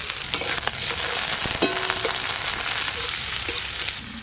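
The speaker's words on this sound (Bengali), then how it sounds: "পেঁয়াজ কুচিগুলো একটু ভাজা ভাজা হয়ে গেছে।" Chopped onion frying with black cumin seeds in a pan: a steady close sizzle with occasional sharp clicks and scrapes of stirring.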